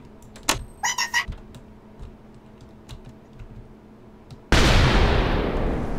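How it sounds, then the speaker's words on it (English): A barrel-equipped TNT cannon fires in Minecraft: a few keyboard and mouse clicks, then one loud, close explosive boom near the end that fades slowly. "let's do a test fire, shall we? See if our cannon worked."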